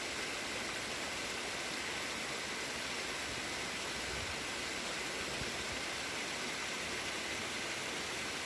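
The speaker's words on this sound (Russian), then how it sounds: "Вот он, первый Агурский водопад." The first Agura waterfall in the mountains near Sochi, a steady broadband rush of falling water heard continuously and fairly close, with no voices over it.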